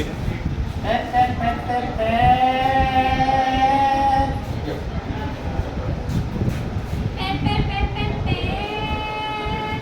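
A human voice imitates a vehicle horn with two long, steady honking tones, the first held for several seconds and the second after a short pause, loud and close over a noisy background.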